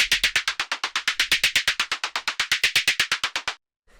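Synthesized percussion made in Ableton Operator from white noise through a bandpass filter: a rapid, evenly spaced run of about thirty bright, hissy hits with sharp attacks and quick decays, played alone, ending in silence.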